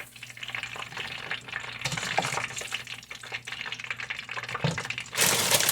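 Homemade french fries lifted from a pot of hot oil into a colander, giving a steady bubbling sizzle with stirring and scraping, and a brighter hissing rush near the end.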